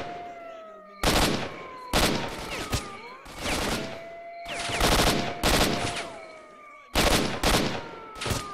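Loud bursts of automatic gunfire in S.T.A.L.K.E.R.: Shadow of Chernobyl, several separate volleys of rapid shots, each about half a second to a second long, close by with short pauses between them.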